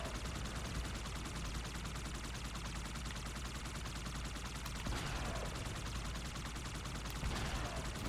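Rapid sustained automatic weapon fire from the Halo 2 video game, a dense continuous rattle of shots running the whole stretch with a couple of louder bursts near the end, no talking.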